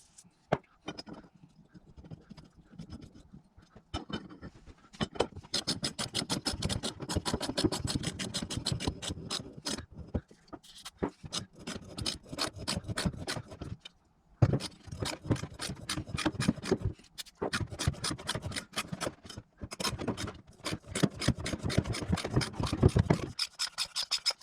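A thread tap works into an aluminum cylinder head, giving a steady rasping, scraping grind in long passes broken by brief pauses, close and fairly loud with no voices.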